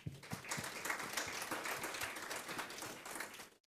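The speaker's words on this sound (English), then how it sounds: "Shall we all give a big round of applause to Sister Charu?" Steady applause from an audience, dense clapping filling the whole stretch before cutting off abruptly at the end.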